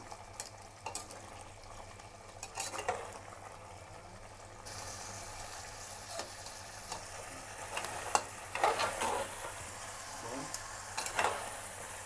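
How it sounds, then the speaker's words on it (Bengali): Bengali-style mutton curry sizzles in oil in a pan while being stirred, with a steady close sizzle broken by repeated scraping stirs that grow louder and busier partway through. "দেখুন আমার কষানো হয়ে গেছে মাটনটা, ভালো করে তেলও ছেড়ে দিয়েছে"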